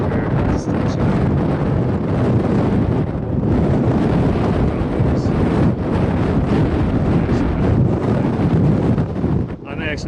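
Strong wind blows above tree line on Pikes Peak along the Barr Trail, a loud, roaring buffet against the microphone that surges and dips without letup for the whole stretch.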